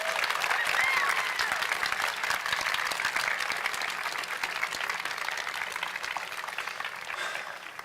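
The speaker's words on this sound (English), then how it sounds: "give, if you would, one more time, your supporters a round of applause" A large audience at a Tigard High School 2017 graduation ceremony gives sustained, dense applause that stays steady and loud throughout.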